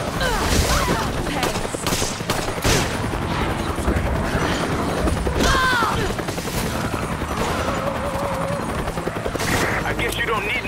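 Gunfire from the Resident Evil 5 video game: repeated sharp shots and bursts over a busy, loud game soundscape, with a voice speaking over parts of it.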